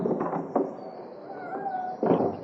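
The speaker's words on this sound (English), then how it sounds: "Cats are multiplying." A cat meows a few times at moderate distance, with faint rustles and knocks around it and no talking.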